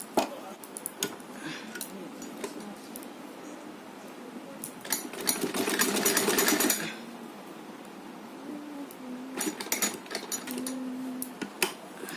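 A sewing machine stitches a small ribbon dress for a size 3–4 Laddu Gopal idol, running in a couple of short close bursts among clicks and fabric handling, with a brief hum of voice in between.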